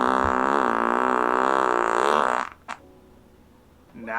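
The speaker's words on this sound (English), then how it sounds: "Fart." A loud, sustained fart sound effect with a buzzy, wavering tone runs for about two and a half seconds, then cuts off to near silence before a brief faint rise at the end.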